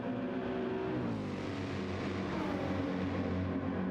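Race car engine in a racing video game, a steady loud continuous drone with shifting harmonic tones as it holds and climbs in revs, running throughout without pause.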